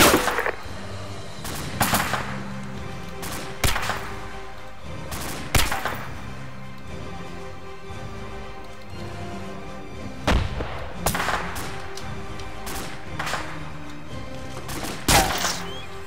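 Bursts of gunfire in an Arma multiplayer battle in a city, with rifle volleys and thumping shots arriving in irregular clusters across the whole stretch, some close and sharp, others duller and farther off.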